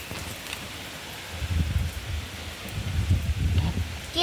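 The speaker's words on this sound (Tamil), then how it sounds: "தற்போது இந்த மழை கனமழையாக உள்ளன." Heavy rain falls steadily outdoors, a dense low rumbling wash that swells in places, with a faint rustle over it and no clear talking.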